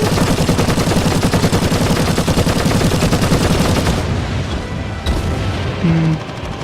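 Heavy bolter fire in a video game comes as a loud, sustained stream of rapid booming shots for several seconds, then breaks off into quieter rumbling and a couple of brief follow-up bursts.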